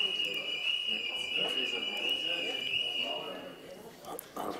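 A fire alarm rings as a steady, loud high-pitched tone throughout a municipal council meeting in Twenterand, with voices talking over it.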